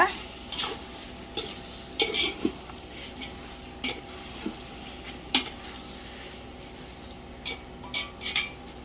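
Mutton biryani cooking in a pot over a village wood fire is stirred with a metal ladle, giving repeated sharp scrapes and clinks over a low steady crackle, fairly close.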